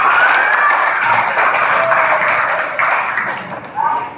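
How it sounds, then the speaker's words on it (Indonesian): A dense wash of clapping fills the space, steady and fairly loud throughout, with voices faintly mixed in. "beri tepuk tangan dulu"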